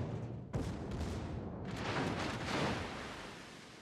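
Warship guns fire in World of Warships Legends: a sudden boom, then a second rolling salvo with a long rumbling decay, fairly quiet overall.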